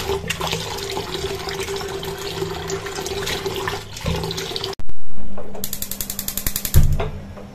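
Red spinach leaves being washed in water: continuous splashing and running water, then a sudden louder rush followed by rhythmic sloshing pulses, close and loud, with no talking.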